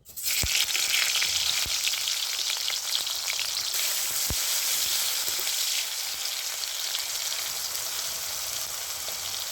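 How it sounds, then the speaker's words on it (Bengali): Chopped tomato dropped into hot white cooking oil sizzles and fries steadily, a dense continuous hiss with a few sharp pops near the start, close by and with no talking. "তেলটা গরম আছে, তেলের মধ্যে আমি কেটে রাখা একটা টমেটো দিয়ে দিচ্ছি"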